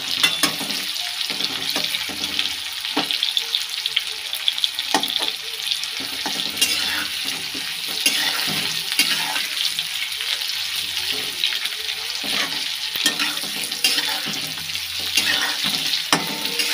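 Potato fried with cumin and freshly added onion sizzles steadily in a pan, a dense continuous hiss dotted with small crackles and stirring scrapes, heard up close and without speech.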